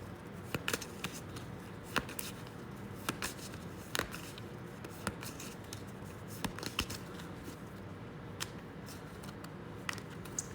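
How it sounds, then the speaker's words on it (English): Playing cards are shuffled by hand for a solo board game, a run of quiet riffling and sharp tapping clicks repeating every second or so, close and alone. "I have to shuffle some cards"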